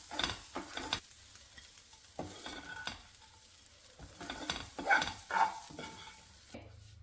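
Fenugreek leaves fry in a pan and are stirred, a faint sizzle broken by irregular scraping strokes that grow louder toward the end.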